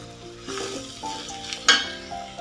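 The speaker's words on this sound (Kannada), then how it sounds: "ಈ ಈರುಳ್ಳಿ ಎಲ್ಲ ಹಾಕಿ ಒಳ್ಳೆಯದೊಂದು ಮಿಕ್ಸ್ ಕೊಡಿ. ಆಗ ಈರುಳ್ಳಿಯು ಚೆನ್ನಾಗಿ ಫ್ರೈ ಆಗುತ್ತೆ." Chopped onions sizzling and being stirred in a hot pan for a Kannada rice dish, with soft scraping of a spoon against the metal and a sharp clink partway through; no talking.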